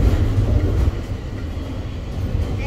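A city tram rolls along its street tracks with a low, steady rumble, louder for the first second and then easing to a constant drone. No one speaks.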